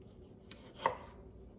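A knife cuts a large tomato into pieces on a board, with a single sharp chop standing out amid faint softer knife sounds in a quiet kitchen, with no speech.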